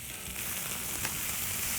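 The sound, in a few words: beef taco meat sizzling on a flat top griddle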